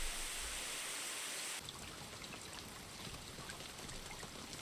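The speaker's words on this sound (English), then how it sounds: "unfortunately the next day it's raining hard" Heavy rain in the visual novel If My Heart Had Wings, a soft continuous patter and hiss that shifts to a slightly fuller, steadier downpour partway through, faint and even, with no one speaking.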